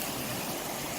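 River water rushing steadily during a crossing on foot, a dense, close, broadband flowing wash with no voices.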